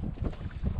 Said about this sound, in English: This wind is not helping anything.